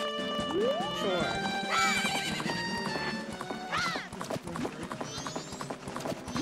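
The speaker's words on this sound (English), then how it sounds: "So this horse came out of the swamp." A horse in the N64 game Majora's Mask gives a long, shrill whinny and then trots with steady clip-clop hoofbeats, bright and loud over a game music background.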